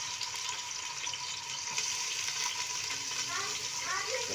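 Chopped onions frying in a pan, a steady broadband sizzle with some faint watery crackle holding level throughout, close and continuous with no talk over it.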